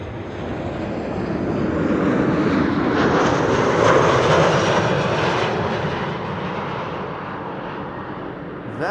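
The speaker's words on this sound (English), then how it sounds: "This was KLM flight 1402 arriving from Paris." A KLM narrow-body airliner arriving from Paris at Amsterdam Schiphol Airport on a frosty day, its engine roar swelling, peaking near the middle and easing off as it passes, loud and unaccompanied by speech.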